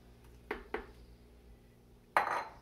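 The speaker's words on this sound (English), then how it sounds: "So I add 2 eggs" Two eggs cracked against a mixing bowl of softened butter, giving two sharp close taps followed by a louder clattering knock against the bowl, with quiet room tone between.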